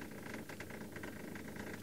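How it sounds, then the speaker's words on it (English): A car engine idles steadily just behind a safari vehicle on an African plain among wildebeest, a low continuous rumble with faint rattling vibration, moderately close and alone without talk. "It's just a car behind us."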